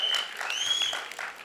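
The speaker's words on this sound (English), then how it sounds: "A big round of applause for him." An audience claps steadily at a film song launch, a dense wash of applause with a few whistles over it.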